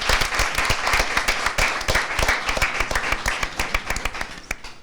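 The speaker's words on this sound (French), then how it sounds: "Merci d'applaudir Norbeka à la maison." A studio audience at a TV game show applauding, steady dense clapping close and loud throughout, tapering slightly at the end.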